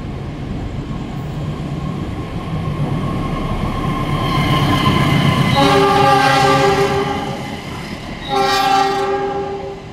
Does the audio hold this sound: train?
yes